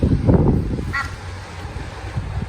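Egyptian goose honking outdoors, a single short nasal honk in the middle of the clip over steady wind noise and low background rumble.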